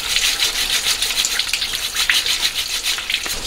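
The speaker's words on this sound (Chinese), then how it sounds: "咱把面包蟹清洗一下。" Tap water gushes steadily over bread crabs being rinsed, a bright continuous splashing that fluctuates slightly in force, close and fairly loud, with no talk.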